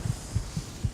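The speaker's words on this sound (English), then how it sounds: "heartbeat thudding in my ears" Muffled heartbeat thuds in Skyrim, a slow, regular pulse of low, soft double beats repeating steadily and heard alone at low volume.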